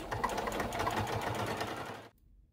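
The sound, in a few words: sewing machine basting a neckband onto a neckline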